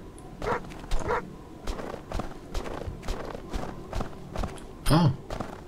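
A German shepherd barks in the video game Farmer's Father, a series of sharp barks spaced irregularly over background ambience, the last bark louder and closer.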